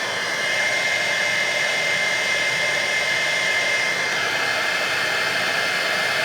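A heat tool blows a steady, loud, unbroken roar of hot air close by while melting silver embossing powder on a card, with no talk over it.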